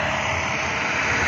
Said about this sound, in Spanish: Aquí viene el tractor trabajando.